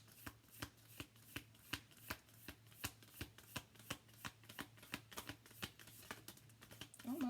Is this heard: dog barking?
no